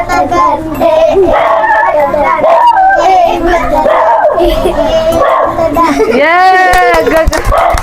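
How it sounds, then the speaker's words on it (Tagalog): A dog barks and howls loudly and repeatedly through a noisy birthday party, mixed with children and adults talking and shouting. "Ang ingay ng aso."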